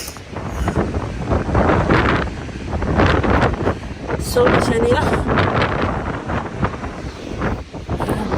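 Strong wind roars across a high point above a beach, heavy gusts battering the microphone in waves throughout, with a brief spoken phrase near the middle.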